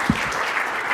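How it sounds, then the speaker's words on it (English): Audience applause welcoming a speaker onto the stage at a live business talk, a brief burst of steady clapping from the crowd filling the whole moment. "I want a big welcome and a round of applause for Kirk Bowman"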